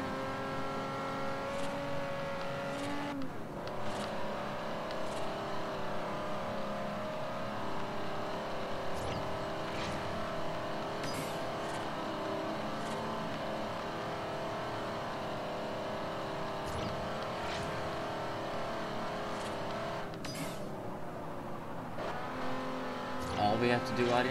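Engine of a car driven in the racing game Forza Horizon, a steady continuous drone with shifting revs and occasional gear changes, running loud throughout beneath game music and someone talking.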